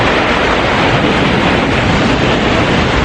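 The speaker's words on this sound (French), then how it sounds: "Très bizarre ces vagues derrière moi." Ocean waves at Kochi, Kerala, India, heard as a loud, continuous broadband wash of surf with wind rumble and no distinct breaks, filling the whole stretch.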